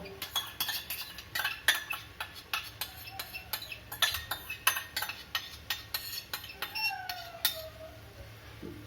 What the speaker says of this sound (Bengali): বন্ধুরা আমি এবার এই গ্রেভি এবং এই দইয়ের মিক্সচারটা আমি একসাথে ভালো করে মিশিয়ে নেব